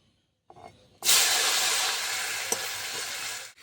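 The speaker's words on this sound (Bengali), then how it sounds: "টমেটোগুলো ভালো করে সেদ্ধ হওয়া পর্যন্ত ভেজে নেবো" Chopped tomatoes dropped into hot oil with asafoetida for a vegetarian curry, bursting into a loud, close sizzle that hisses steadily and slowly eases, with one small clatter midway.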